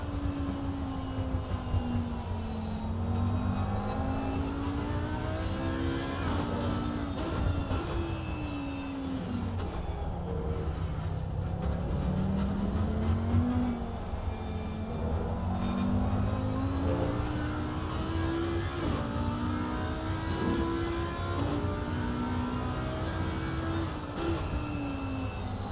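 GT3 race car on a lap of the Nurburgring in a racing game, its engine note climbing and dropping through gear changes and corners, loud and continuous throughout.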